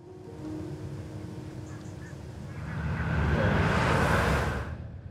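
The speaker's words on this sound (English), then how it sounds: "The flight of the geese ends as quickly as it had begun." A flock of geese honking in flight over an outdoor hunting area, faint and distant at first, then swelling louder as the birds pass, with a steady wash of background noise.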